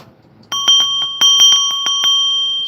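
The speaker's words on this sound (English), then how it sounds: "gonna hit the bell. Watch your ears." A small metal bell is struck several times in quick succession, each strike ringing bright and close with a sustained metallic tone that lingers between hits.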